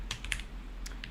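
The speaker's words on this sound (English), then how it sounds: "Yes, keyboard." Keys tapped on a keyboard fitted with Gateron Hall-effect magnetic switches, a handful of quick, light clicks close by in a quiet room.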